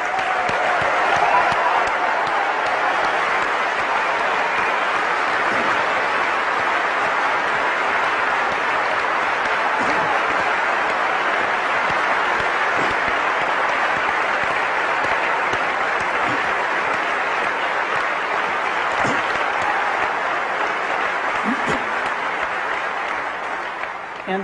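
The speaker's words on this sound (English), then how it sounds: "I want to give them a round of applause." Sustained audience applause fills a large hall at a Macworld San Francisco 2003 keynote, dense, even clapping from a big crowd that holds steady for over twenty seconds without speech.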